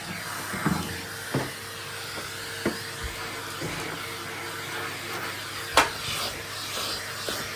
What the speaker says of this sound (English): I'm just going to quickly vacuum along here.